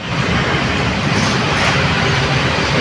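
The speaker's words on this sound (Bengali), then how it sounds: "এটা হচ্ছে এখানকার মেট্রো লাইন।" An elevated metro train in Kuala Lumpur rolls past, making a loud, dense, unbroken rumble and roar heard close up throughout with no pauses.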